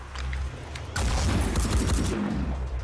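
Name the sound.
machine gun firing in video game Phoenix Point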